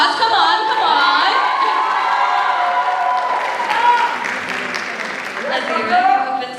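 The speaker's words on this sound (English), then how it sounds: "Keep giving them applause, come on, come on." An audience at an India Day cultural show held by a university Indian student association applauds and cheers, with whoops and shouting voices rising over steady clapping that holds loud throughout.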